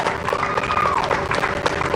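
A small gathering claps and cheers for NASA astronauts Bob Behnken and Doug Hurley. Dense, steady applause fills the whole stretch at moderate loudness with scattered crowd voices.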